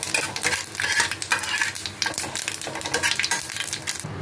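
Whole cumin seeds crackle and sizzle in hot oil in a pan, with a steady frying hiss and occasional stirring scrapes and small utensil clinks throughout.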